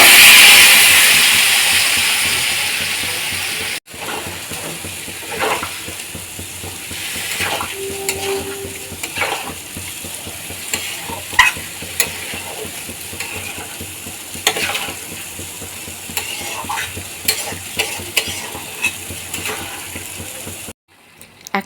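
Vegetables sauté in a pan while a spoon scrapes and stirs them, a steady close sizzle punctuated by repeated clinks and scraping strokes over about twenty seconds, without speech.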